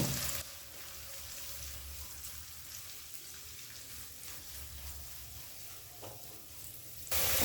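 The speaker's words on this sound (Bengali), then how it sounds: "গ্যাসটাকে এবার হাই ফ্লেমে রেখে 3 থেকে 4 মিনিট ভেজে নেব।" Onions, green chili and carrot fry on a high flame in a pan, giving a steady, close sizzle with occasional stirring scrapes throughout, no voices.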